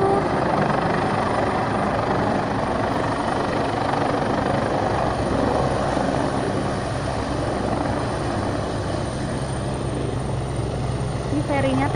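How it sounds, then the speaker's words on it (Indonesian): A helicopter comes in to land near the Wan Chai ferry pier in Hong Kong. Its loud, steady rotor and engine roar fills the whole stretch without pause. "Dan itu helikopternya turun di situ."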